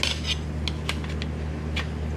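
Metal tire spoons clink and scrape as they are pulled free from an adventure-bike tire, several sharp metallic taps spread irregularly over a steady low hum.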